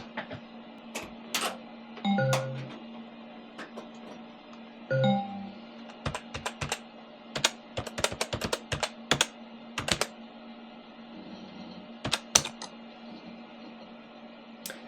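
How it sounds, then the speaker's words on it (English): Typing on the keyboard of an old PC being set up with Windows XP: irregular bursts of crisp, clacky keystrokes, close and fairly quiet, with short pauses and a couple of heavier thumps between runs. "Can I even just type in?"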